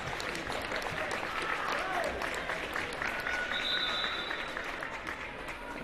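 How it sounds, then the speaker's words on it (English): Crowd at a high school boys' substate basketball game applauding seniors leaving the court, sustained loud clapping filling the gym for the whole stretch, with faint voices and shoe squeaks beneath it. "Mr. Bontrager is going to give some of his seniors a chance to get a round of applause"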